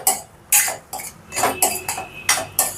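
A spoon stirs ridge gourd curry cooked with milk and green chillies in a pot, making a handful of close, sharp metallic scrapes and clinks in an uneven rhythm.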